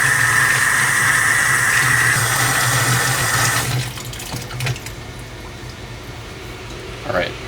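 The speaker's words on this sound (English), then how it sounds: "Let's turn the water back on." Water runs from a tap in a steady broadband rush for several seconds, then cuts back to a quieter trickle with faint clinks.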